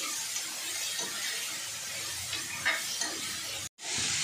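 Onions, tomatoes and curry leaves sautéing in a pan for mutton kolambu make a steady hissing sizzle with a few light stirring scrapes before the sound cuts off briefly.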